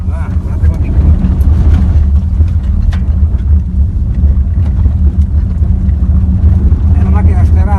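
An off-road car drives through a ford. A loud, low engine drone continues throughout, mixed with wind buffeting on the microphone and splashy, rough rumbling.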